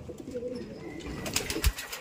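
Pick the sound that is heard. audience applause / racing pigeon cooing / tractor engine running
racing pigeon cooing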